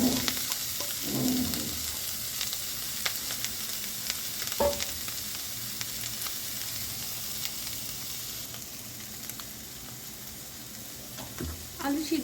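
Deboned fish hitting a pan of fried spices, a steady close sizzle with soft stirring scrapes and a couple of brief clinks, no talking.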